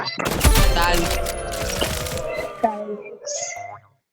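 Rapid bursts of assault rifle fire from the Roblox Rivals shooter game crackle loudly in a dense volley, with a voice talking over them before the shots cut off into near silence.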